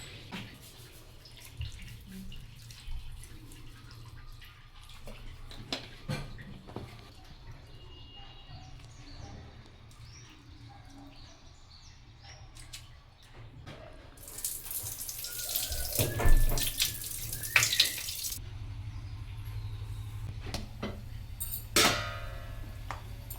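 Tap water runs and splashes into a basin in bursts, with dishes or hands being washed; the flow grows louder partway through, then stops.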